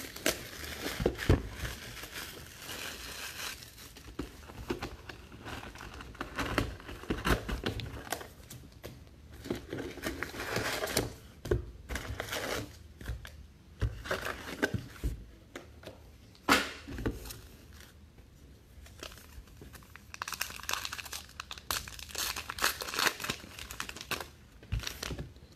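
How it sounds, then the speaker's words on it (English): Baseball card packs from a 2019 Allen & Ginter box being torn open and handled, steady crinkly foil and paper crackling and ripping bursts running throughout, close and fairly loud with no talking. "Gonna rip one more box of cards"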